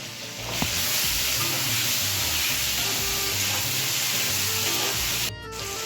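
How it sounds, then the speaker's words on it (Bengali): Diced potatoes, chopped tomato and slit chillies fry in a hot pan with whole spices such as bay leaf and dried chillies, giving a steady loud sizzle that carries through the whole stretch after a sharp start. "এবার দিয়ে দেবো হচ্ছে ডুমো ডুমো কেটে রাখা আলু, টমেটো কুচি আর লঙ্কা চেরা"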